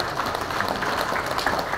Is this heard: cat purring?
no